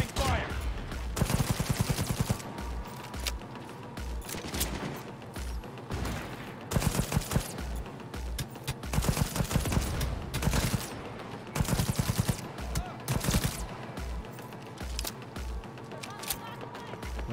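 Gunfire in the video game Cyberpunk 2077: repeated loud bursts of automatic fire and single shots arrive in uneven clusters, separated by brief lulls filled with lower background game noise.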